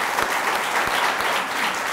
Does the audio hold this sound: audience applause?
yes